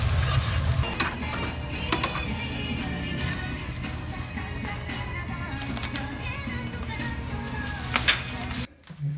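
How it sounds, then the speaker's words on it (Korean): Pork intestines stir-fry with cabbage and sauce on a busy tripe restaurant griddle, a steady sizzle layered with scraping, clinking utensil strikes and background chatter from people nearby. "이 돼지막창에다가 양배추랑 소스를 넣어서 버거버거 볶아줍니다"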